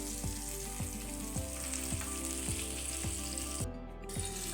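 Fish pieces fry in a pan on medium gas, a steady crackling sizzle of oil close up, with faint regular ticking underneath and no talk.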